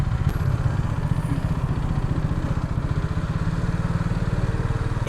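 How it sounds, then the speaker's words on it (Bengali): A Hero Karizma 210cc motorcycle crosses the Padma bridge, its engine holding a steady, close, low rumbling drone with a fast pulsing beat and no voices. "হিরো কারিশমা নিয়ে এই প্রথম পদ্মা সেতু দিয়ে পার হইতেছি"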